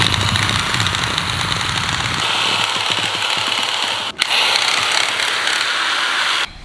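A loud power tool runs continuously while preparing a chicken coop, with a harsh, rattling hammering drone, briefly cutting out near the end before resuming.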